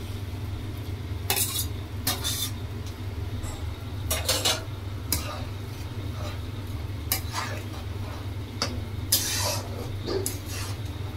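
Paneer pieces go into a pan of simmering curry and get stirred, with repeated metal utensil clinks and scrapes against the pan over a steady low bubbling hum, fairly close and clear.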